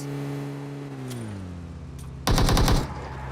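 Video game gunfire: one short, loud burst of rapid automatic shots cuts in over a steady engine-like drone whose pitch slides downward.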